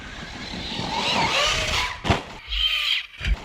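Arrma Notorious 6s RC car driving hard with a whining, squealing motor that revs and then cuts out under braking, followed by short bursts of acceleration, fairly close and loud.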